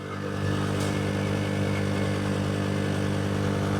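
A small 150cc Chinese motorcycle engine runs steadily at close range, a continuous harmonic drone with mild clatter and no clear revving, loud and alone throughout.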